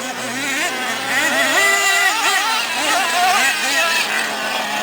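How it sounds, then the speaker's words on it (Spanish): Small RC off-road race car accelerating on rough ground, its high-pitched electric whine rising and falling in repeated bursts, with voices talking over it throughout. "Dale, acelera, acelera, acelera."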